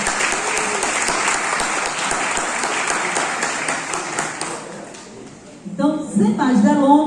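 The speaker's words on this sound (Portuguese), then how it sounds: "com uma salva de palmas para vocês que estão aqui esta noite" Audience applause at the opening of a university seminar on faith and religious studies, a dense burst of clapping from a crowd that fades after about five seconds before people start talking.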